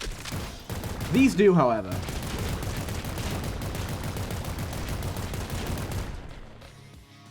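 Rapid, continuous gunfire from the video game Nuclear Throne, a dense stream of shots lasting several seconds with brief voiced talk near the start, then cutting off abruptly.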